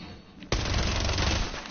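A suppressed weapon in a video game firing a steady rapid burst that starts abruptly and keeps going to the end, muffled and fairly faint, with no talk.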